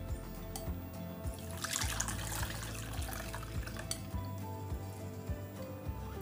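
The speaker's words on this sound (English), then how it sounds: "I want this drink smooth, so I will sieve it again." Tiger nut, coconut and ginger drink is poured through a sieve, giving a continuous close trickle and splash of liquid with light clinks and taps of utensils against a bowl.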